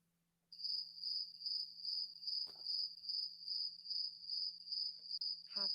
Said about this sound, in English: You don't hear nothing but them damn crickets.